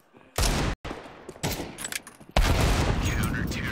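Counter-Strike gunfire on the Nuke map during a competitive esports match, with loud sharp bursts and a brief pause, then a sustained volley of shots, while a commentator's voice runs faintly underneath.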